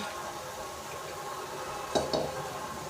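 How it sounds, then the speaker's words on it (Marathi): Turmeric sautéing in a pan with softened tomato for upma, a faint steady sizzle broken by two quick clinks of a spoon against the pan, close by and with no talk. "मग याच्यामध्ये आपण हळद टाकूया. ते थोडंसं परतून घेऊ."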